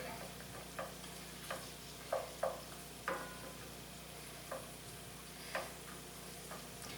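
Onion frying in a pan for lobster mac and cheese gives a faint, steady sizzle, punctuated by several soft clicks and scrapes of stirring at irregular intervals.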